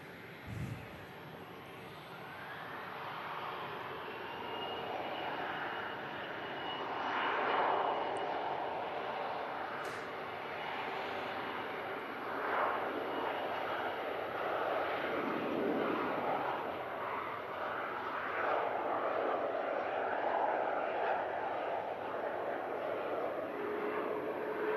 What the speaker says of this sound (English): Next aircraft to line up is going to be the Logan Air Embraer